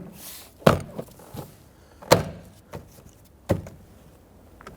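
Plastic button retainers pressed into holes along the bottom of a 1992-1996 Toyota Camry door panel, giving three sharp, close snapping clicks spaced about a second and a half apart, with softer handling knocks between them.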